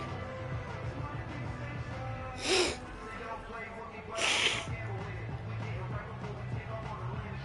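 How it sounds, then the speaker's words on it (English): Two sharp nasal sniffs, a couple of seconds apart, close to the microphone and louder than a steady background of a Madden football game with commentary. "I just hurt my nose with that sniff"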